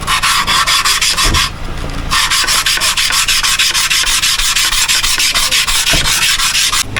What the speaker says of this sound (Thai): เอาวีนอนมาขัดก็ได้ครับ